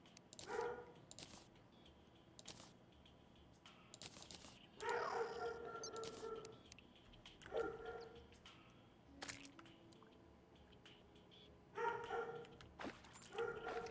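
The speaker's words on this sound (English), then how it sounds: "What are they barking about, man?" Dogs in a Terraria game bark and yip in several separate bursts, sharp repeated barks with a whimpering tone, spaced apart over quiet background play sounds.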